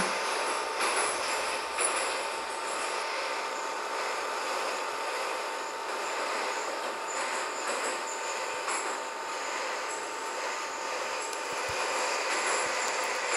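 A Minsk metro 81-717 train riding the Avtozavodskaya line, heard from inside as a steady, loud roar of wheels and motors with faint rail clatter and squeal running throughout.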